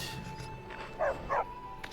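A dog in the video game Skyrim gives two short barks in quick succession, moderately near, over a quiet ambient background.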